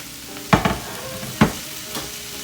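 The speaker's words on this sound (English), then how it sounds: "So there goes the red peppers into there." Red peppers being stir-fried in a pan with chicken and shrimp for spicy chow mein, a soft sizzle broken by a few sharp scraping stirs in a short burst.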